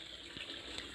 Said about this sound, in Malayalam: വെള്ളത്തിൻ്റെ ശബ്ദം കേട്ടിട്ടാണ് ഇത്ര പേടിയെന്ന് തോന്നുന്നു